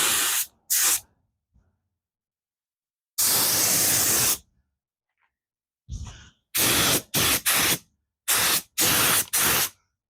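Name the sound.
paint spray gun spraying air and paint on RV rims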